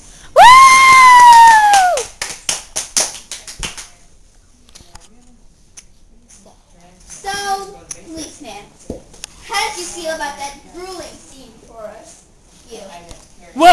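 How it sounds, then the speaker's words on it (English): A studio audience at a comedy interview act screams and cheers loudly for an arriving guest, with a long high-pitched shriek and a burst of claps up front, then scattered children's shouts and chatter after a short lull. "Give him a round of applause,"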